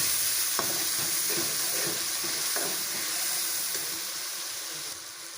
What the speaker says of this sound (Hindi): मसाले को अच्छी तरह भून लिया।